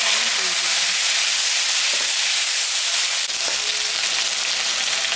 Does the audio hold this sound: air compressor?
no